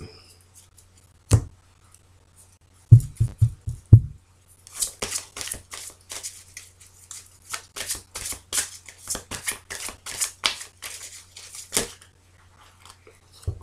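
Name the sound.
cutting and shuffling a deck of tarot cards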